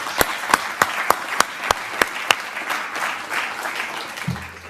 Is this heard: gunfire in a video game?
no